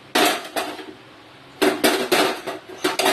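Freshly washed steel dishes and utensils set down one after another in a home kitchen, sharp clattering clinks in two clustered bursts separated by a quiet pause, close and loud with no talking.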